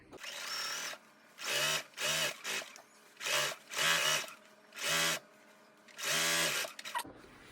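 Sewing machine stitching pants fabric in repeated bursts of about half a second to a second, with short pauses between runs, close and fairly loud, with no talking.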